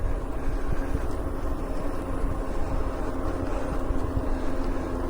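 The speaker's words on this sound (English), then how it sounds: "I hear an airplane." An airplane flies overhead, a low, steady rumbling drone that holds evenly from start to finish at moderate distance, with no voices.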